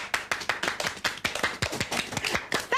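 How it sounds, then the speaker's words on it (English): Group clapping at a children's sing-along, a run of sharp, fairly quick, somewhat uneven claps close by, with a brief high voice at the very end. "And now a big clap for all of us."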